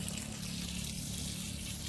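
Water gushes steadily from a hose or pump line onto grapevines in a vineyard, a continuous, fairly loud rushing wash with no pauses.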